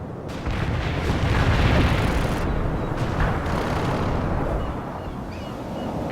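Airstrike explosions in a war strategy game set in a third world war, a loud rumbling barrage of booms rolling on for several seconds, then settling into a lower roar.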